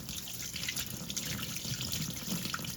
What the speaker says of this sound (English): You go ahead and rinse the soap off the brush.